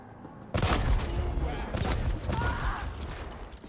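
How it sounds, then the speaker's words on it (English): Shotgun handling and firing in the action game The Ascent: a sudden loud burst of gunfire after a moment of quiet, followed by repeated heavy blasts and mechanical clatter with a voice talking over it. "I'll switch to my shotgun."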